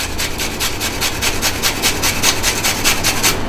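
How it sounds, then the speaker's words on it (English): Cabbage grated by hand on a kitchen grater, a loud, close, continuous rasping in steady back-and-forth strokes with no voices. "We're going to take the grater, you're going to take the cabbage, and just run all over"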